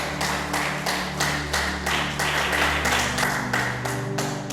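A church congregation applauds steadily and fairly loudly for several seconds, a dense crowd of clapping hands in a large hall, with a low sustained musical tone running underneath.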